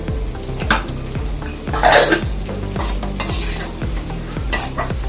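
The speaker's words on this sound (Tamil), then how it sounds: "நல்லா வந்து ஃப்ரை பண்ணிக்கலாம் கேப்சிகமா போட்டுக்கலாம்" Chilli chicken being stir-fried in a pan with sugar and capsicum, a metal spatula scraping and stirring in a steady rhythm over a continuous close sizzle, with clinks against the pan.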